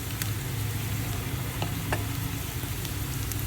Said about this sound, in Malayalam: എന്നിട്ട് അടുത്ത സെറ്റും ഇതുപോലെ നമുക്ക് ഫ്രൈ ചെയ്തെടുക്കാം